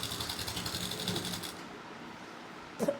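A sewing machine runs a seam on shorts in a rapid, steady whir for about a second and a half, then stops, leaving quiet room tone and a brief clunk near the end.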